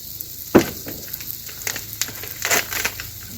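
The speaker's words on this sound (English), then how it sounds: "this time I'm going to drop some oil in the middle to start" Oil hitting a hot discada starts with a sharp pop and crackle, then short bursts of sizzling and spattering follow at irregular moments.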